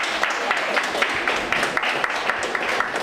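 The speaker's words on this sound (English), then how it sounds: "Give Ecopella another clap." Audience clapping for the choir Ecopella, a close, steady patter of many hands at moderate loudness with individual claps poking through.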